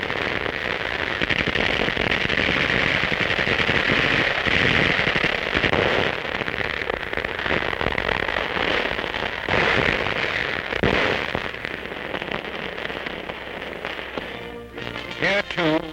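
Wartime battle in New Guinea, with dense, continuous gunfire and explosions crackling loudly throughout, under a newsreel narrator's voice.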